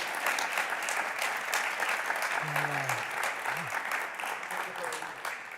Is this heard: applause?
yes